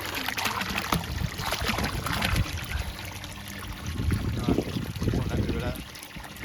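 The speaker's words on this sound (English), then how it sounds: "Alright, just whack that pump on." A koi pond pump, set up while an air lock problem is being sorted out, runs with a steady wash of trickling water over a low rumble. The sound is continuous and fairly loud, with muffled, indistinct voices in the background.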